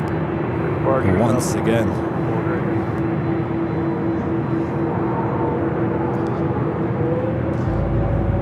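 A fixed-wing airliner takes off from LAX runway 24 left with a loud, steady engine roar heard from a hotel rooftop, while a voice talks over it throughout.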